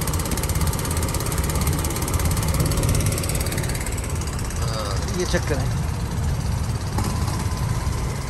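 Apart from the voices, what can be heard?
Nile river boat engine running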